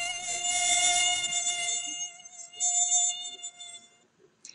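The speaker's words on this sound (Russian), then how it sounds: "Наверное, это комарик звенит." A mosquito whines in a thin, high, steady buzz, loud and close at first, then dropping away and returning in a second swell before fading out.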